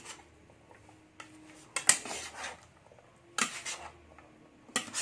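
Coleslaw being tossed and mixed in a bowl in a home kitchen, with sparse utensil clinks and scraping against the dish, a few sharper knocks standing out amid quiet rustling, close and alone.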